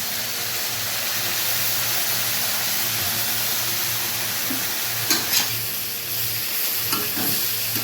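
Cabbage and tomato stir-fried over high heat with soy sauce and vinegar for chow mein, a steady loud sizzle and hiss with spatula scrapes and stirring clatter toward the end.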